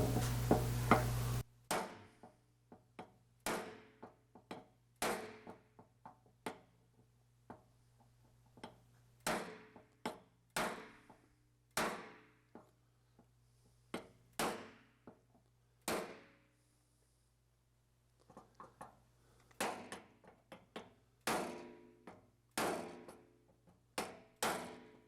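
A Delrin caulking tool hammers sheet metal on an Austin-Healey 3000 shroud, with sharp, close taps in irregular bursts separated by short pauses and a faint steady hum underneath.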